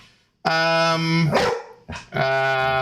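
A dog named Toasty bread gives two loud, close, drawn-out barking calls with a whining, howl-like tone, separated by a brief pause.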